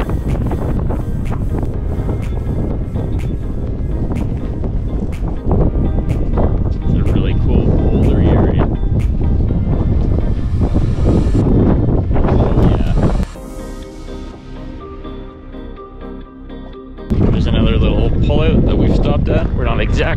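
Strong wind over grassy ground at Dinosaur Provincial Park, Alberta, buffets the microphone in loud, continuous gusts, with a brief quieter lull midway before the roar returns.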